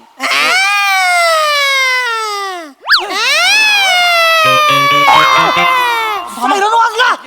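A wailing siren imitated by a human voice in a comedy sketch, loud rising and falling tones that slide up and down in pitch, with more voices and noise toward the end.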